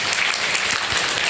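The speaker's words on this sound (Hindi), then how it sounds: "तालियां फिर यीशु के लिए बजाएंगे।" Dense, steady applause fills the hall at a church healing prayer meeting, a congregation clapping together loudly and continuously with no voices over it.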